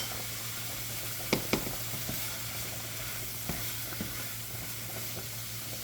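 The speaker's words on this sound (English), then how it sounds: "let's allow it to fry a little bit" Shrimp frying in butter in a pan: a steady, close sizzle throughout, broken by a few sharp pops and clinks.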